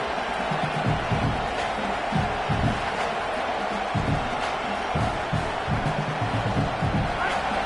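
A stadium crowd in a college football video game keeps up a constant roar with rhythmic low thumps. A commentator talks over it.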